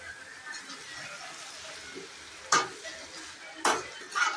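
Chopped eggplant added to sautéed tomatoes in a pan, with a soft steady sizzle underneath and two or three sharp, brief clatters of a utensil against the pan, close by.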